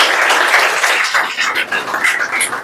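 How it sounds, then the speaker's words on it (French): Audience applause filling a hall at a French ceremony, a steady wash of dense clapping that holds loud throughout without a break. "Donc s'il vous plaît, applaudissez"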